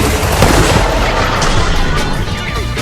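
Loud, dense bursts of bullet gunfire from a weapon in a video game, continuous and rapid across the whole stretch, close and dominant with no pause.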